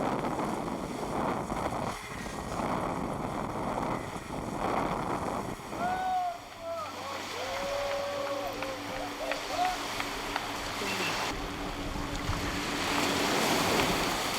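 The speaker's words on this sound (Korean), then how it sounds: "요동치는 스피드보트에서 2시간여를 견뎌내야 한다" A speedboat bounces through rough seas on the way to the Similan Islands national park off Phuket, Thailand, with surf, spray and wind buffeting the microphone throughout and brief voices near the middle.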